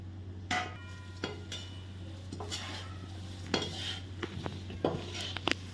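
Fried green chillies and curry leaves are stirred into crispy nylon poha chevda in a metal pan. A spoon scrapes and clinks against the pan at irregular intervals, close up, over a faint sizzle and a steady low hum.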